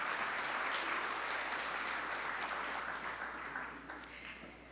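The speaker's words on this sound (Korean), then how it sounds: "큰 박수로 다시 한 번만 감사를 좀 표해 주시면 감사하겠습니다" Audience applause at an awards ceremony after a baritone's congratulatory song, heard from a distance as a broad wash of clapping that slowly fades toward the end.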